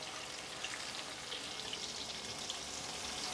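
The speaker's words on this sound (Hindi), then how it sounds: "यहाँ पर तेज़ आंच पर दोबारा से चिकन को फ्राई करते एक मिनट हो गया है" Chicken for chicken chilli being fried again on high heat in hot oil gives a steady, dense bubbling sizzle that hisses continuously at moderate volume, with no voices.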